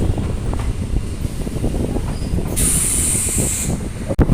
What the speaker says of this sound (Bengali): ট্রেনে এই মুহূর্তে লাভপুর স্টেশন ছেড়ে বেরিয়ে যাচ্ছে